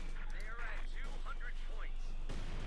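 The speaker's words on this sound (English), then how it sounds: "Grenades, mortar fire." Mortar shells and grenades burst in the Company of Heroes 2 battle, with dull explosions and gunfire rumbling under a commentator's continuous talk.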